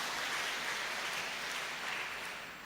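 Steady applause fills a church gathering at a HKBP women's monthly service, honoring a piano player; many hands clap densely in a continuous wash that tapers slightly at the end.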